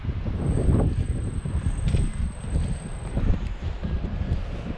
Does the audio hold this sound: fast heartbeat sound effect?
no